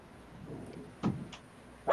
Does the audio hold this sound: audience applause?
no